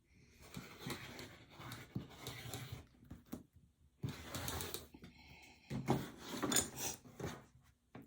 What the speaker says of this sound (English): I'm going to cut my first strip